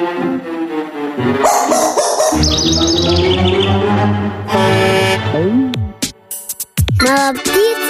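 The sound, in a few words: little bird chirping in a cartoon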